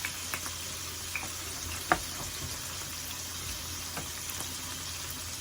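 Faint, steady sizzle of basil stirred into hot oil with onion in a pan, a soft continuous fry with a few small clicks and taps of the spoon, no voices.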